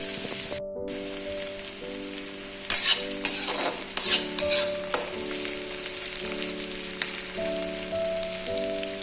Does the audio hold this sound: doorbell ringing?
no